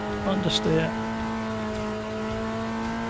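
A race car in a sim racing game drones at steady engine pitch as its open differential lets a wheel spin, with a short tire squeal up front, while a person talks briefly over it.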